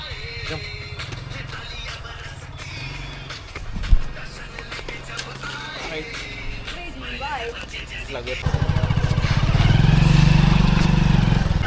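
A motorcycle engine putters unevenly under people talking, then revs up into a louder, steady rumble near the end.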